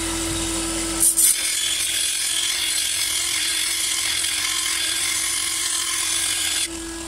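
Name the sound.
flat file sharpening lawn mower blade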